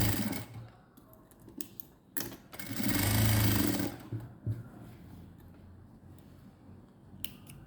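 A sewing machine stitches a churidar neck in short bursts of rapid clatter, with a longer, louder run in the middle and quieter gaps between. Light handling clicks fill the pauses.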